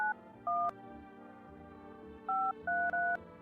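A phone number is dialed in a video game as a run of clean DTMF keypad tones. There are two early beeps, then a pause, then three quick beeps, all steady and clear over a faint low hum.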